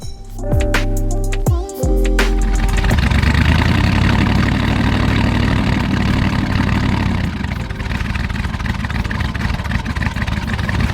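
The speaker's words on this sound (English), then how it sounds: "That's a random misfire." A wrecked Corvette C6 Z06 engine cranks and settles into a loud, rough idle with an uneven, stumbling beat from a random misfire, running steadily and close up.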